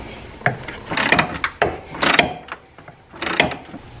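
Ratchet with an extension bar working on a bolt at the battery of a Jeep Patriot, giving several close bursts of rapid clicking and metallic scraping with short pauses between strokes.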